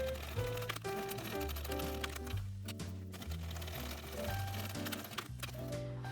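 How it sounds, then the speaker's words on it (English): A sewing machine stitches the box corners of a fabric bag in short bursts, its rapid mechanical chatter starting and stopping several times, close and fairly loud, with no one speaking. "now we're going to sew both of these box corners with 3/8 of an inch seam allowance"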